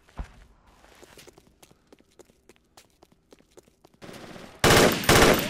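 Gunfire in the military shooter game Project Reality: scattered sharp single shots and short bursts pop at a distance, followed by two loud, close, harsh bursts of automatic fire near the end.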